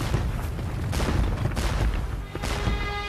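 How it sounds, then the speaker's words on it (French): Booming cannon fire from a Napoleonic battle at Waterloo, a dense, continuous barrage of heavy thuds and rumbling blasts that rolls on for the whole stretch with no voices. "Marchez, marchez au son du canon."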